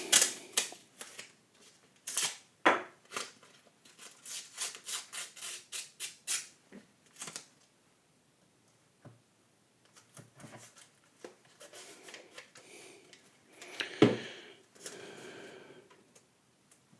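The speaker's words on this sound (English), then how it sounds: "And then we start taping." Tape is pulled and pressed onto the back of a Holga plastic camera, producing a quick run of close, sharp tearing and crackling strips, then quieter scattered rustles and one louder rip.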